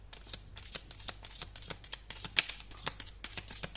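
An oracle card deck is shuffled close by, producing a steady series of soft riffling flicks and card slaps over a low background hum, with no talking.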